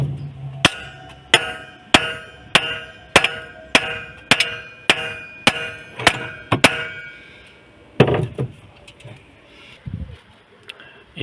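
A hammer strikes wheel studs out of a hub one after another, about a dozen sharp metallic blows in a steady rhythm, loud and close, followed by a few scattered knocks and handling clatter.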